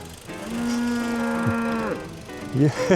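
A cow in a field in Britain lets out a long, loud, close moo that slides down at the end, then another cow begins a rougher, rising low.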